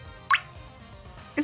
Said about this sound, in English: It's like a water drop.